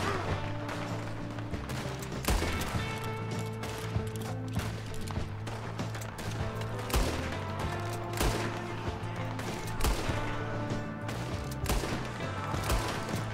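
Gunfire crackles through a Red Dead Redemption 2 western shootout, with repeated sharp shots fairly close over a steady bed of game noise and music, fairly dense throughout.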